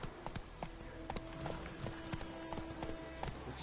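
Rapid rhythmic hoofbeats of a horse running in a video game, with steady clip-clop strikes over a low ambient bed, fairly faint and with no talk.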